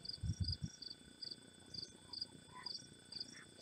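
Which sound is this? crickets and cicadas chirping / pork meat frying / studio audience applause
crickets and cicadas chirping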